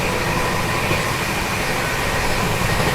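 Patna Anand Vihar Express passing on the third line, a loud, steady rumble of rolling wheels and carriages close by, continuous and unbroken throughout.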